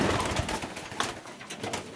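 Pigeons of a crowned, muffed-foot breeding line coo softly in a loft, soft repeated calls over a steady rustling background, no talk.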